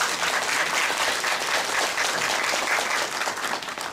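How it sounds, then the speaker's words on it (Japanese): An audience in a packed hall at a talk on nuclear power and the media applauds two speakers, a dense, steady wash of many hands clapping that holds evenly throughout and tapers slightly at the end. "お二人に拍手をお願いします。"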